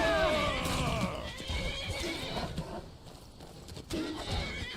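A horse in the video game Skyrim whinnies and neighs loudly as it charges into combat, with hoof clip-clops and fighting sounds layered behind.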